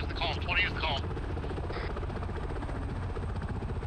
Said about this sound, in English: Two helicopters over.